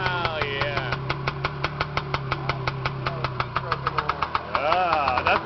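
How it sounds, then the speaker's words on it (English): A small two-stroke engine in an old Mini Micro car runs close by with an even, rapid knocking putter. A person's voice briefly talks over the start and end. "you start the two-stroke engine backwards"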